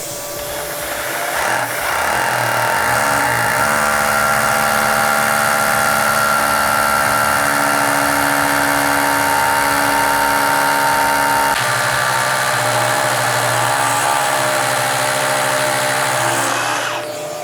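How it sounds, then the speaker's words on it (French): A loud drill with a dust-extraction drill bit runs together with an attached vacuum's steady whine and roar, the pitch shifting slightly midway, continuous for over fifteen seconds. "la même opération avec un forêt aspirant relié à un aspirateur"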